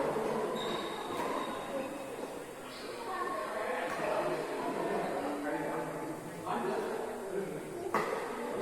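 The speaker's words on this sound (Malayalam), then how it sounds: "ട്രെയിൻ ഇതുവരെ പോയി." A train rumbles along the rails with clattering wheels and high metallic squeals rising and falling, while people talk faintly in the background.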